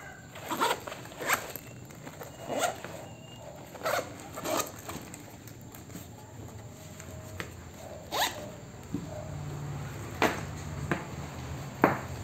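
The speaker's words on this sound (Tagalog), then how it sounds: "Ang kanyang zipper rin ay may proteksyon sa tubig" The zipper on a waterproof Rhinowalk motorcycle leg bag is pulled in repeated short, close rasps, with brief pauses between the strokes.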